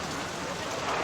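Steady hissing rainfall from RollerCoaster Tycoon 2 fills the whole moment as an even, dense wash of noise, with a possible voice faintly underneath.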